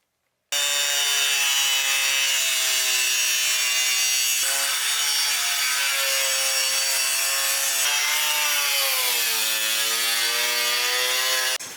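A power tool cuts through the plastic bumper of a Toyota 4Runner, giving a loud, steady high-pitched whine with a few brief pitch dips and restarts across about eleven seconds, with no talking.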